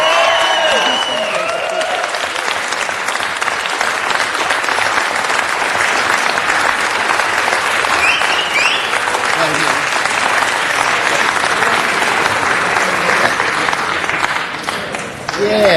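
Loud, sustained applause rises from the audience at a city council meeting, thick and continuous for about fifteen seconds, with a few voices and cheers mixed in before it eases near the end.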